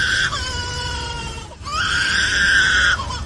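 A lyrebird delivers a sustained, tonal shrieking call, two long drawn-out notes separated by a brief break, loud and close with a steady background hiss.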